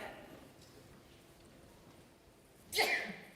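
A single sharp sneeze from an audience member bursts out near the end after quiet room tone, brief and fairly close.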